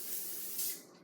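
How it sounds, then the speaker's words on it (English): A short hissing burst of vegetable oil cooking spray from an aerosol can, close by, greasing a container, lasting about a second with a brief surge before it fades. "And now I'm going to take a little bit of vegetable spray"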